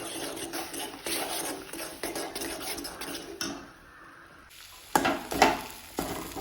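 Tapioca noodles and raw eggs are stirred in a pan over a soft sizzle, with scraping and a few sharp clinks of a utensil against the pan, close and moderately quiet, with no talking.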